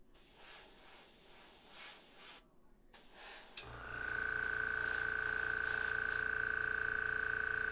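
An airbrush spraying paint onto a McFarlane Hellblaster Primaris marine miniature hisses, first in short faint bursts, then settling into a loud, steady spray with a thin whine.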